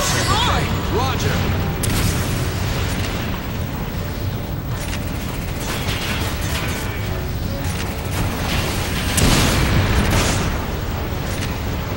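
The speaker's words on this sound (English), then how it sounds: "Those damn machine guns again!" Sustained automatic gunfire from enemy machine guns in Resident Evil 5, loud and dense with booming bursts and mechanical clatter throughout, swelling again near the end.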